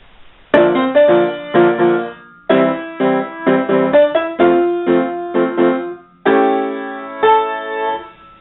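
Solo piano plays the Lord of the Rings Gondor theme, a steady repeated left-hand rhythm under chords, with clear phrases separated by short breaks and a longer sustained chord near the end.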